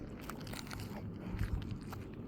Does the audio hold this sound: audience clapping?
no